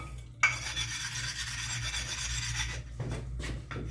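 A Belgian blue sharpening stone has its edge smoothed with a steady, close scraping rasp that runs continuously for several seconds, then breaks into a few shorter strokes at the end.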